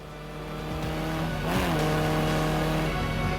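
A 1,000-horsepower Porsche race car, a 60-year-old icon of motorsport, revs hard, its loud engine note sweeping up and down in pitch around mid-clip before holding a sustained high roar, with a hint of tire squeal.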